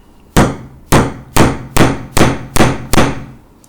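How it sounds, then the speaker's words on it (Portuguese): A hammer drives a nail into a piece of wood with seven loud, sharp strikes at an even rhythm, each blow ringing briefly before the next, close up and with no talk. "E vou martelar"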